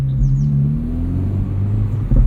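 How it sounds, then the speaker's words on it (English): A 2024 Acura Integra Type S exhausts off throttle, giving a steady metallic drone and rumble from the engine as the car coasts, heard close and continuous with no talking. "off throttle you get this kind of metallic sound"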